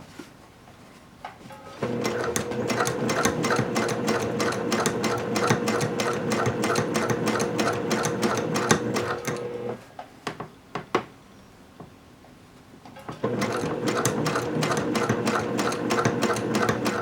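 A sewing machine stitches a seam on a Village Courier bag made from a Green Pepper pattern, running in two long rapid stitching stretches separated by a short pause with a few clicks.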